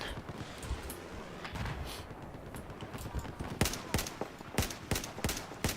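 Single-shot rifle fire in Battlefield 4, a string of sharp separate cracks that thickens toward the end, loud over a busy battlefield background with no talking.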